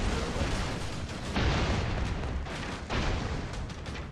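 A grenade goes off in the side-scrolling action game Broforce. Heavy, rumbling explosion noise carries through the whole stretch, with several sharp booming bursts layered over continuous loud blast and debris roar.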